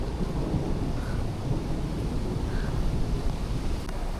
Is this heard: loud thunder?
yes